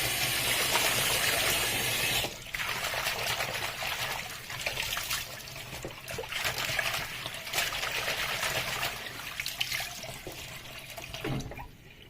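Water trickling and splashing into a bowl in a kitchen sink as ugu leaves are rinsed, a steady close wash of running liquid that eases off briefly near the end.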